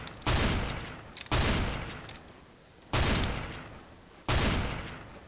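Four booming shotgun blasts from the Nova in CS:GO, each a sharp loud crack with a decaying tail, spaced roughly a second apart, alone with no talk.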